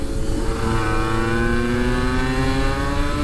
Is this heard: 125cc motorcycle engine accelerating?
yes